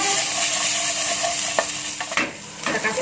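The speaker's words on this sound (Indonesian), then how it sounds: "kita oseng-oseng seperti ini sampai warna buncisnya berubah sedikit ya" Green beans and tempeh stir-fried in a pan, with a steady sizzle and intermittent scraping clacks of the spatula as the pieces are tossed, close and fairly loud, with no voices.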